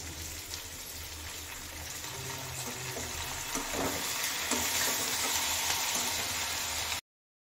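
Cumin, black pepper, dried red chilli, garlic, onion and ground spice paste sizzle in a hot pan for a mixed vegetable sabzi, a steady loud hiss that swells after a few seconds, with no voices.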